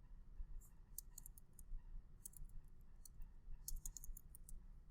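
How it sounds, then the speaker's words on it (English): Fingers typing on a computer keyboard produce irregular bursts of crisp, light key clicks in quick clusters over a low steady hum, with no talking. "Let's go back to here so I can type this out."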